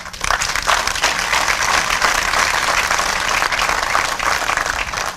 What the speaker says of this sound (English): Give yourselves a hand.